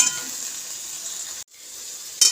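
Taro leaves with prawns sizzling in a pan, a soft continuous hiss that drops out briefly midway, returns, then rises with a short louder burst near the end.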